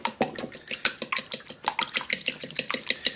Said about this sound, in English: So we poke the eggs, and we try to mix it up a little bit.